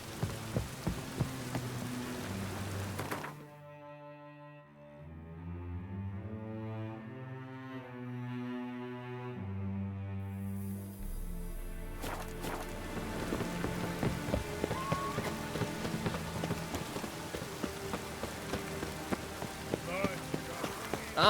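Steady rain hisses across the scene in The Witcher 3: Wild Hunt, pattering continuously in the background while a musical tone sequence plays over it for a stretch in the middle.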